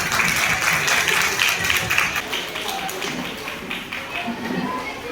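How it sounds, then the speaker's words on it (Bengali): Audience applause after a request to honour a karate trainer at a stage event, a steady dense patter of clapping that rolls on for the whole stretch, loud and close with a slight dip midway. "সবার কাছ থেকে জোরে একটু হাততালি চেয়ে নেব"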